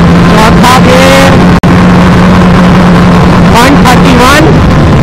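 An Apache RR 310 motorcycle accelerates hard in fourth gear, its engine note climbing under heavy wind roar at a very loud, distorted level, while a rider talks over it.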